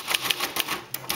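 Several sharp mechanical clacks from a Royal Quiet Deluxe manual typewriter, keys struck in a quick uneven run of about six or seven, close and crisp with no voices.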